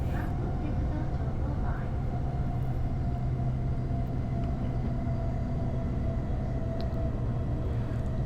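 Steady low rumble inside a Joban Line train running toward Mito through countryside, an even broadband roar with no clear breaks, loud and continuous throughout an empty early-morning carriage.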